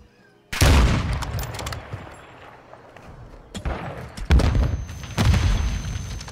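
A sudden heavy boom of a grenade blast bursts in, followed by ringing gunfire bursts and further thumping explosions in a Call of Duty MW2 search-and-destroy match, loud and close.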